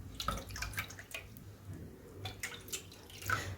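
About one and a half cups of water is poured into a cooking pot, making faint, intermittent splashes and trickling drips spread across a few seconds, heard close and quiet with no voices.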